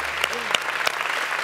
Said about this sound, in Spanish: Habría que aplaudir, ¿eh? Había que aplaudir aquí